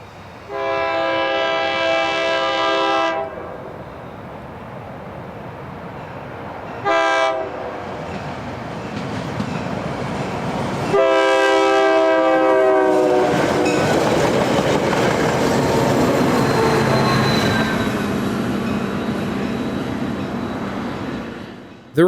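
A diesel commuter train, MCS 156 on the Nashville & Eastern, sounds its horn in long blasts, then rumbles closer to its station stop with clattering wheels and another extended horn as it approaches.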